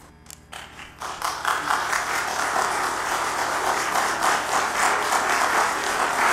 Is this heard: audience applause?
yes